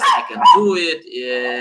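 Dogs barking indoors in a home, short yips and barks mixed in with a person talking nearby.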